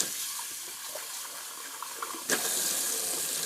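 Tap water runs steadily into a shaving bowl as it is rinsed, a close, continuous splashing stream that turns louder and fuller partway through.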